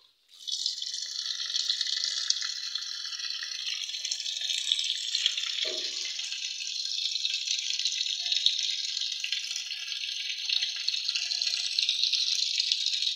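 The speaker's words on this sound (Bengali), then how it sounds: "এই জন্য আমরা পানির লাইনটা আবার দিয়ে দিব।" A washing machine refills with fresh water from its supply line: a strong, steady hiss and rush of pouring water starts after a brief moment of quiet and runs evenly for more than twelve seconds, with a short gurgle midway.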